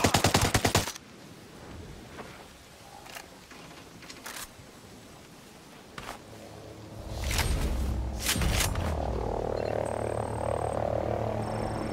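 Gunfire in the tactical shooter Ghost Recon Breakpoint: a dense burst of automatic fire opens the clip, then scattered single shots and distant cracks ring out amid a rumbling battle ambience.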